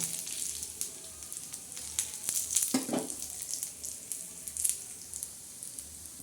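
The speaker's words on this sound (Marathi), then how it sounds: "हे बघा खोबरा असं छान असं मस्त भाजून घ्यायचं खरपूस" Coconut and whole spices for black masala dry-roasting in a pan, giving a steady soft sizzle and crackle with occasional sharper pops and one brief louder scrape or stir near the middle, close by with no talking.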